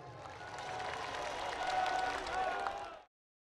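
Sustained audience applause at Kartarpur as Navjot Singh Sidhu is welcomed on stage, steady dense clapping from a large crowd for about three seconds before cutting off abruptly.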